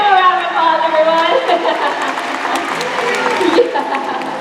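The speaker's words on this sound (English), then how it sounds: "we can give a round of applause" Audience applause and some cheering at a SeaWorld San Antonio orca show, clapping continuing steadily while a presenter talks over it through amplified speakers.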